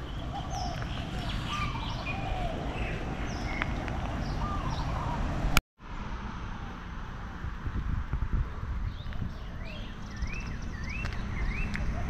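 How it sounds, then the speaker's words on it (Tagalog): Assorted birds sing and chirp from the trees in Hilo, Hawaii, their whistled phrases repeating over steady wind and outdoor rustle, with a brief dropout midway through. "Klase-klaseng boses ng ibon maririnig mo rito."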